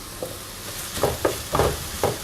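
Onions, green chilli and curry leaves sautéing in a pan for kara paniyaram, with a low steady sizzle broken by several soft scraping stirs close by.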